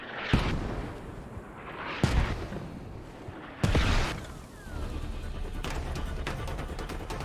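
Artillery strike in the military shooter Squad, three heavy booming explosions a second or two apart, followed by rumbling debris and a sustained roar of continued fire.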